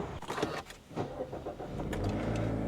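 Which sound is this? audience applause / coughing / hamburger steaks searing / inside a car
inside a car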